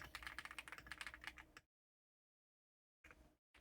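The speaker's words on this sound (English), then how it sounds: "I'm typing it." Fast typing on a computer keyboard, a close, busy clatter of keystrokes that stops abruptly, then resumes in two short bursts after a pause.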